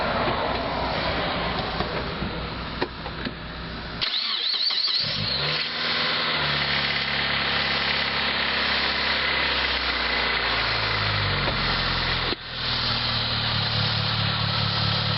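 A 2002 Mitsubishi Lancer fresh from new ignition coils, spark plugs and wires cranks briefly, catches and settles into a steady, even idle close by, with a short blip partway through and no talk.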